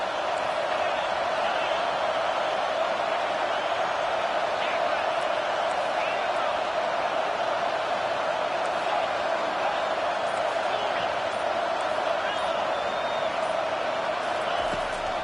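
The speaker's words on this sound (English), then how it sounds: "Third down, and this crowd is tearing the lid off this place." A football stadium crowd roars on third down, a dense and constant wall of noise that stays loud and steady throughout, with no clear speech on top.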